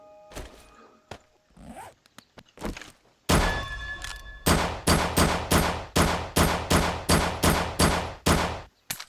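A weapon firing in the zombie survival video game 7 Days To Die: scattered quieter thumps, then a loud, regular series of about a dozen heavy shots spaced roughly half a second apart, close and punchy.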